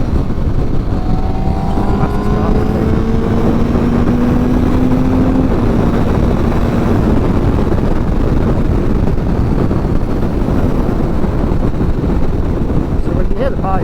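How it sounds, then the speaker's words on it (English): A motorcycle rides at highway speed with its exhaust valve open, giving a steady, loud engine drone under heavy wind rush, with faint engine tones gliding upward early on. "the exhaust doesn't actually open until it's about 55 miles an hour if you listen to it"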